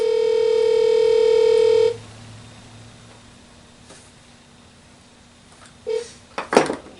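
Telephone dial tone during a podcast call to a guest, a steady loud tone lasting about two seconds before cutting off, followed by quiet line hiss and a few short clattering handling noises near the end.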